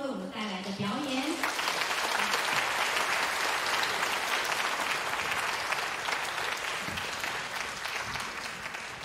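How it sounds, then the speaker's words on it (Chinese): Audience applause for a children's high brass ensemble, a broad, steady wash of clapping lasting several seconds after a brief voice at the start. "现在就让我们以热烈的掌声来欣赏高音铜管组的小朋友为我们带来的表演"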